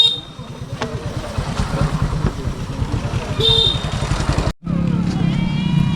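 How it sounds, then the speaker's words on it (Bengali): A motorcycle climbs the steep road up Chandranath hill near Sitakunda, its engine a steady low thrum close by that briefly cuts out before resuming; people talk over it. "বাইক দিয়ে পাহাড়ের উপরে উঠে"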